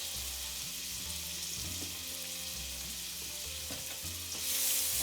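Ginger garlic paste sizzles and fries steadily in a hot pan over medium flame, a continuous close crackle with soft stirring scrapes, rising slightly louder near the end, while preparing Indian royal navratan korma.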